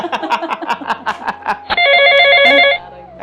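A telephone rings in a home, a loud, close electronic ringtone of repeated bright tones that cuts in after a stretch of rhythmic tapping sounds.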